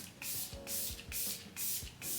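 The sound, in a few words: spraying Rare Beauty setting spray on face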